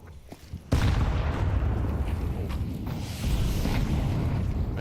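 A grenade blast in Counter-Strike during a professional esports match: a sudden loud, deep boom rolls into a long, sustained rumble with no voices over it.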